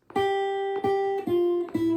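Fingerpicked guitar chords, plucked on the top three strings together, ring out four times in an even rhythm, each attack clear and bright, sustaining between notes.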